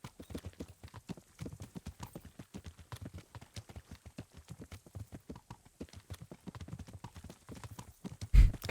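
A horse trots steadily in Kingdom Come: Deliverance, its hooves clip-clopping in a close, even rhythm throughout, with one heavier thump near the end.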